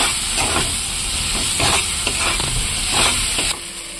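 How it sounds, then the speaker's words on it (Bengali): Spice masala with kasuri methi frying in a pan for a dal tadka, a loud continuous hiss and sizzle with repeated stirring scrapes, close and alone without speech. "এরপর আমি কস্তুরি মেথি দিয়ে দিচ্ছি, কস্তুরি মেথিটাকে সুন্দর করে কষাবো এর মধ্যে।"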